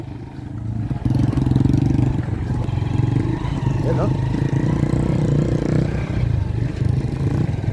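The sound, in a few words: Rusi motorcycle engine climbing up a mountain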